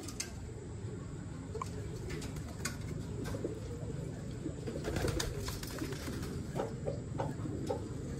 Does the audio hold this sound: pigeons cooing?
yes